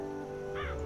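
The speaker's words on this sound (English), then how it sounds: "I see a bird." A single short caw from a bird in the Left 4 Dead 2 custom map Pain Train sounds briefly over a steady game ambience hum.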